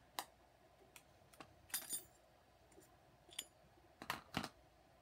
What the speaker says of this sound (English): So let's take the blade out.